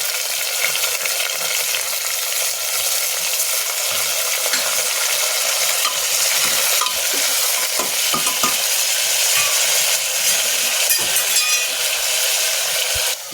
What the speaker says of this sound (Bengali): পেঁয়াজটা আমার লাল লাল হয়ে গেছে। এখন আমি মাংসগুলো দিয়ে দিই।